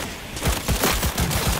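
Skippy smart pistol from Cyberpunk 2077 firing a quick run of sharp shots, about six or seven in rapid rhythm, close and loud with no talk over them.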